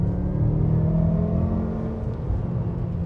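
A BMW M5 engine pulls at full throttle in third gear, a steady, loud, low droning roar heard from inside the car with no break or let-up.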